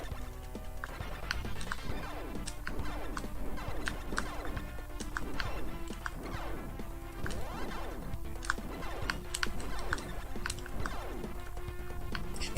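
Game controller buttons clack rapidly and irregularly during play of retro shooter games, close and crisp clicks layered over game music and effects.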